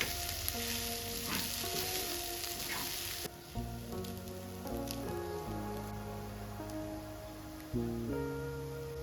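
Cooked rice being stirred and tossed through vegetables in a hot pan for street-style veg fried rice, a steady broadband sizzle with soft scraping strokes and a low background hum, no voices.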